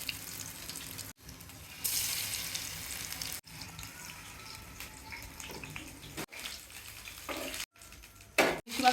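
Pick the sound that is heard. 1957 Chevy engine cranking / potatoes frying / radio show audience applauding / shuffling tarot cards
potatoes frying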